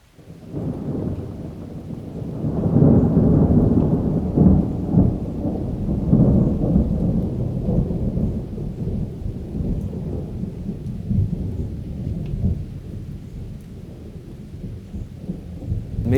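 Thunderstorm with heavy low rumbling thunder rolling in after a couple of seconds and lingering, over a constant hiss of steady rain.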